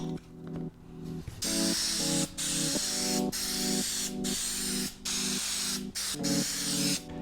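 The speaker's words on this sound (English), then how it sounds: "Make sure you spray both the fabric and the foam." Super 77 spray adhesive hisses from an aerosol can onto fabric and foam in about seven close, loud bursts, with short gaps between them and a steady tonal hum underneath.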